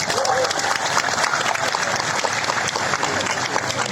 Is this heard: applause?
yes